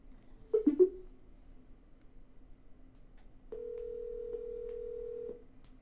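A telephone call attempt plays near and alone: a quick burst of dialing tones, then a long steady tone that holds for about two seconds before cutting off.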